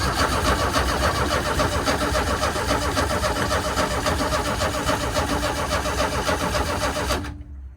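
An abandoned Chevrolet Astro van's engine starts and runs loud and steady for about seven seconds before cutting off abruptly, with no talking over it.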